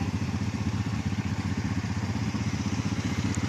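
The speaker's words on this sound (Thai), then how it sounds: "เดี๋ยวนี้สาวปักเซเนาะคนจะขี่รถ ATV นะ" An ATV engine runs with a steady, pulsing low rumble as it is ridden, close and continuous, with no talk over it.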